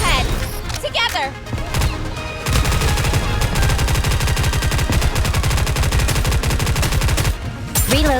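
Rapid automatic gunfire from the Nikke shooter game rattles steadily for several seconds in a dense, continuous burst, preceded by shorter shots and game effects, with a voice briefly speaking over the start.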